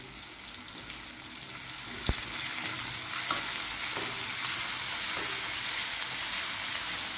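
Onions with salt sautéing over a high flame for veg Schezwan noodles, a steady hiss that grows louder after a sharp clank, with occasional faint stirring scrapes and no speech.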